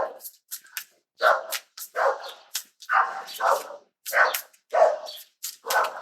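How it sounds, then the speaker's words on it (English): A dog barks repeatedly outdoors, a quick series of sharp, fairly close barks and yips in uneven bursts, with short silent gaps between them and no talk over them. "Dog outside."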